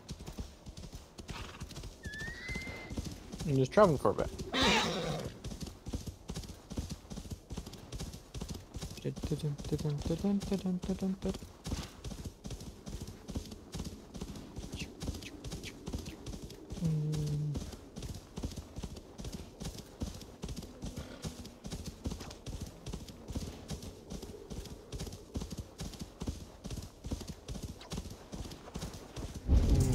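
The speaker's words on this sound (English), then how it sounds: "now I can get on a horse." Horse hooves clip-clopping steadily in Assassin's Creed Valhalla, a fast even trot throughout, with an occasional whinny and someone talking over it now and then.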